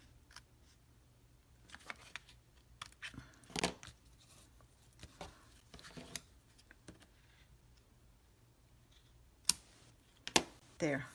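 Scissors trim a paper card for a wiper card craft, with a few quiet, sharp snips and rustles scattered over a faint background.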